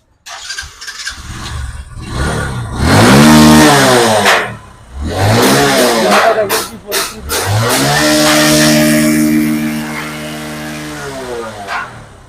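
A Bajaj Discover 125 motorcycle, freshly serviced with engine work on the clutch plate, piston, head and cylinder, starts and revs up in repeated rising and falling surges, loud and close, with brief pauses between bursts.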